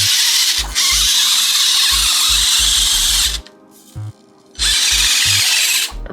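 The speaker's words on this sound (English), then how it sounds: "that's just the brushed Chameleon motor, what makes all that noise" A brushed electric motor in an RC car whines loudly in long, high-pitched bursts, cutting out briefly between runs, with soft rhythmic thumps underneath.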